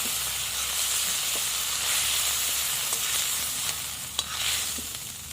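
Fish sizzles in hot oil in a kadai, a continuous close hiss of frying with scattered crackles and a few sharper pops toward the end.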